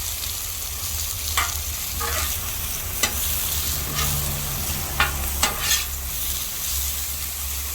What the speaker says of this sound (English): Now I'll start those green peppers